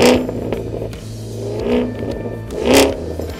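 A 6th generation Chevrolet Camaro SS V8 revs in repeated surges, the engine note rising and falling twice over a steady idle rumble, loud and close with no talk.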